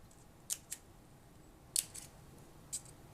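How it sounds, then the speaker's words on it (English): Scissors notching the ends of folded pattern paper, a few crisp, sharp snips spaced irregularly with brief pauses between them, close and fairly quiet with no talking. "I'm going to gently fold it in half and notch the ends"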